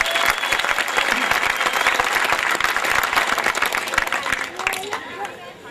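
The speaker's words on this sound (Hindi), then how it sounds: "मैं चाहूंगा कि एक बार उन शहीदों के सम्मान में जोरदार तालियां बजाएं।" Loud audience applause honouring martyrs at a live stage event, vigorous clapping from a large crowd with some cheering and chatter, fading toward the end.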